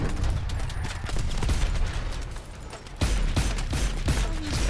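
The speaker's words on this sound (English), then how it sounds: "I'm shooting these guys and they're not even dying." Gunfire in Call of Duty: Advanced Warfare: rapid bursts of shots crack in quick succession with mechanical clatter, a brief lull near the middle, then a louder renewed volley.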